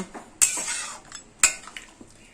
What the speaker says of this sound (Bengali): হলুদ, ডাল, মশলা, মাছের মাথা সব খুব ভালোভাবে মিশিয়ে দিলাম।